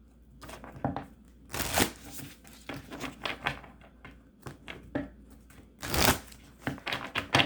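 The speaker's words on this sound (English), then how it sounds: "I'm reshuffling these cards." Tarot cards riffled and shuffled by hand, a papery flutter in short bursts with soft taps and sharper snaps between, close and fairly quiet with no voices.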